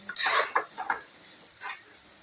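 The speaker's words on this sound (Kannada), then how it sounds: "ಒಂದ್ಸಲ ಚೆನ್ನಾಗಿ ಕಾಯಿ ತುರಿ ಹಾಕಿದ್ಮೇಲೆ ಚೆನ್ನಾಗಿ ಮಿಕ್ಸ್ ಮಾಡಿ." Cabbage palya with grated coconut is stirred in a pan, a few soft scraping sweeps and light clinks of the spoon, close and quiet with no talking.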